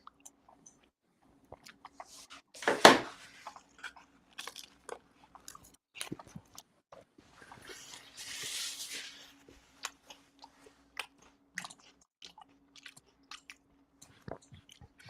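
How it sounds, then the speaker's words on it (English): Someone chews food right next to a microphone, making scattered crunchy bites and soft squishy sounds over a quiet background, with one louder crunch early on. "I guess you hear me chewing more so with the mic."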